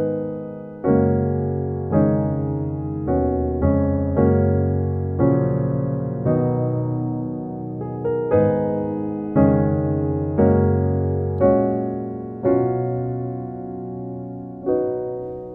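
Piano plays a gospel jazz chord progression from a song, rich sustained chords struck one after another at a slow, steady pace, solo and close.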